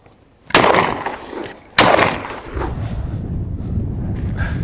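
Two loud, sharp shotgun blasts from a Baikal MP-27 fired at thrown clay targets, about a second apart, each followed by a ringing decay, with wind rumble continuing outdoors.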